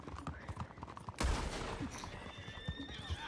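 A horse whinnies in the Red Dead Online video game after being shot with an elephant rifle, a loud burst rising abruptly over hoofbeats and game noise, fading into a sustained cry with chatter in the background.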